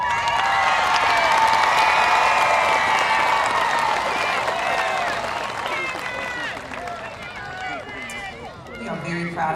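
Audience applause and cheering at the 2019 Millington Central High School graduation, a dense, loud wash of clapping from a large crowd that gradually thins and softens toward the end.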